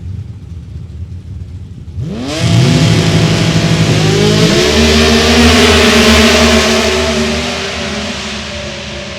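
A small six-cylinder drag racing car launches at a drag strip, its loud engine winding up through rising revs, holding a roaring, near wail before easing slightly as it pulls away.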